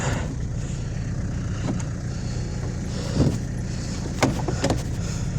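Dodge Caliber, wrecked in a severe crash, with its engine idling and the car starting to creep forward, a low steady hum with a few faint clicks and knocks nearby.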